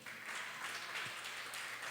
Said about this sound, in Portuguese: Aplauda Jesus bem bonito.